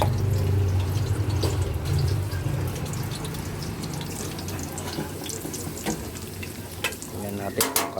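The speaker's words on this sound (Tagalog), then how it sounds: "iprito na po natin ang ating pork fillet" Pork fillet fries in hot oil in a pan, a dense continuous sizzle and bubbling, loud and close, with scraping clatter near the end and no talk.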